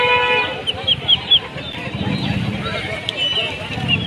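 Chickens and roosters cluck and squawk at a busy rural livestock market in Kapasia, with steady crowd chatter and people talking loudly close by.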